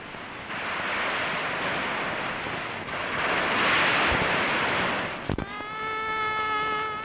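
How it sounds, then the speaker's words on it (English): Waves breaking on the shore near Aguada Fort in Goa, a broad, rushing surge that swells and recedes steadily, moderately loud, ending in a bright musical tone. "Now, only the sound of breaking waves is heard."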